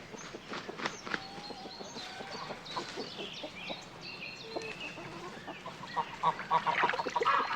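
Farmyard ducks moving about on dry land, with scattered quacks and honking fowl calls overlapping at close to medium range, plus soft footstep-like shuffling and a busy barnyard background throughout.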